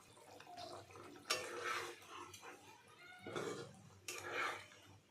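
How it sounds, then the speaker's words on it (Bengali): Fried paneer added to boiling water in a pan: bubbling water with splashes and a few bursts of agitated boiling, close and fairly quiet, with no talking. "জল ফুটে এসে এবার আমি ভেজে রাখা পনির দিয়ে দেবো এর মধ্যে"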